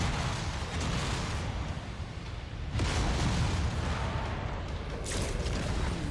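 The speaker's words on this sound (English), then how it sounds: "incoming missile" Missile explosions in the MechWarrior 5 video game form a continuous, loud, rumbling barrage of booms and blasts, with heavier bursts surging in waves over a dense battle din.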